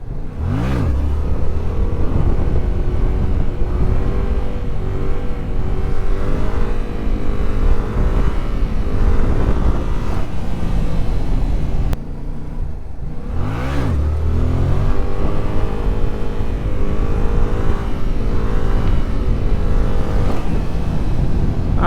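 A Yamaha FZ-07 motorcycle engine revs hard and sustained during wheelies in a mountain setting, its pitch rising and falling as the throttle opens and closes, with a brief drop before it pulls loudly again.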